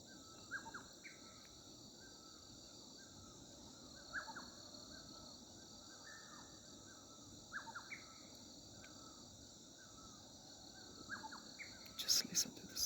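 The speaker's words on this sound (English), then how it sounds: "If you compare the sound of the birds chirping" Morning birds chirp and crows caw in Kalimpong, with scattered calls rising over a steady insect hum and faint background wash.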